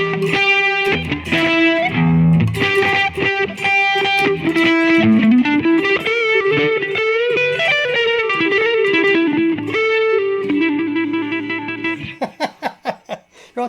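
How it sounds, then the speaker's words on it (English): An electric guitar plays a bluesy crunch tone through the BOSS eBand JS-10's Pro Crunch amp model, based on a Fender Pro Reverb: continuous, loud, slightly distorted melodic phrases and bends, ending in a few single plucked notes that ring out. "this is a standard Bluesy Crunch tone"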